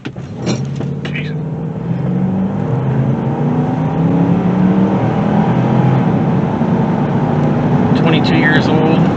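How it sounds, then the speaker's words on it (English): A 2000 Dodge Durango with a 4.7 V8 pulls away from a dead stop, engine note rising and building into sustained loud acceleration heard from inside the cabin, with brief sounds at the start. "Let's do dead stop to 50, see what it does."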